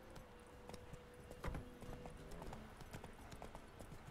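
Roach the horse's hooves clip-clop in a steady walking rhythm in Witcher 3, fairly close, with a faint voice murmuring in the background.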